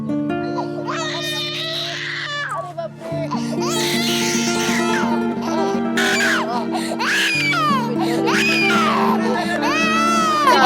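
A baby cries in a Hindi film drama scene, the wails rising and falling in repeated bursts over a sustained musical backing that runs the whole time.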